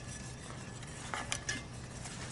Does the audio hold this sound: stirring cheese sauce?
yes